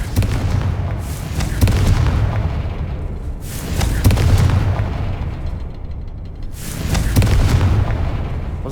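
A Confringo fire spell blasts in Hogwarts Legacy, three heavy booming bursts spaced a few seconds apart, each with a rumbling low tail over a steady loud background.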